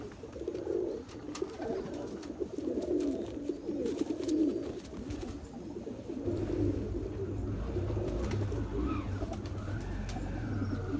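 A Nagpuri pigeon coos steadily and close by, its low throaty rolling calls repeating in a continuous run with no talk over them.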